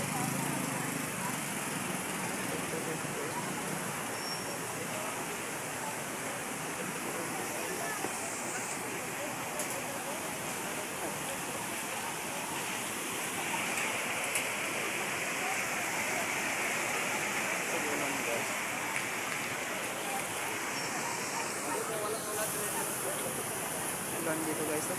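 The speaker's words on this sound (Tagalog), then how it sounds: "Ulan dito guys." Heavy rain falling outdoors near traffic, a steady broadband hiss of downpour that stays even and continuous throughout at moderate loudness.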